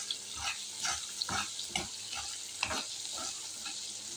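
Vegetables sprinkled with salt sauté in a pan under a soft, steady sizzle, with rhythmic spatula scrapes coming roughly every half second, close and moderately quiet, with no talking.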